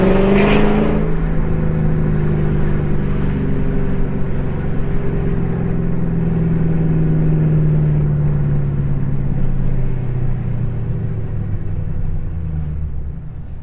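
A 2003 Mercedes-Benz SL55 AMG revving through downshifts in manual mode, its loud, close engine drone holding steady and then sliding lower in pitch, with no voices over it.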